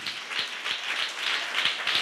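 A church audience claps with hands raised above their heads, a close, even run of hand claps at a quick steady beat, moderately loud and without talk.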